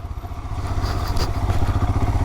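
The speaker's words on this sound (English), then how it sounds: "Really cannot change much direction with the rear wheel just spinning" Royal Enfield Himalayan motorcycle on dirt with its rear wheel spinning and slipping, a steady loud engine drone with rough clattering texture throughout, close by.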